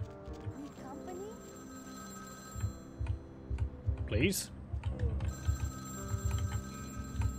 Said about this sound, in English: Phone. Okay, let's pick that up.